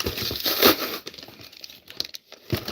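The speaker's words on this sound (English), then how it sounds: "I'm opening a box I ordered from Poshmark" A Poshmark shipping box being opened, with loud crinkling and rustling of packaging close up. A dense burst comes at first, then sparser crackles and rustles follow.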